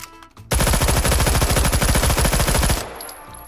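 A Bison SMG fires a long rapid burst in the VR shooter H3VR, evenly spaced loud shots for about two seconds, then a short fading tail, no talk.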